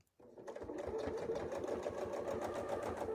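A sewing machine runs steadily, stitching along a chalk-marked quilting line on an apple core template design, starting abruptly and continuing in a fast, even whir close to the mic without talk.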